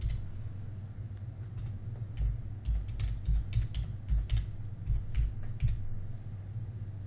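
Rapid, uneven keystrokes clatter on a computer keyboard close by, bursts of typing over a low steady hum, with no one speaking.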